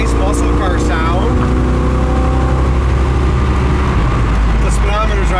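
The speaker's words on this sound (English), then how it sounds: "It's got that nice muscle car sound." A 1979 Camaro Z28 muscle car's engine drones loud and steady from inside the cabin while driving, with a continuous low rumble underneath as people talk over it.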